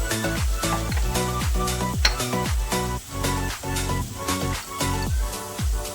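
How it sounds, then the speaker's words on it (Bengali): Ground spices go into fried tomato masala for a parda fish curry, with a steady loud sizzle in the pan and regular rhythmic scrapes and clinks of stirring. "আমরা এখন গুঁড়ো মশলাগুলো দিয়ে দেবো"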